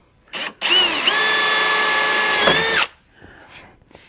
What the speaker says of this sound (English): we're just gonna tap all the aluminum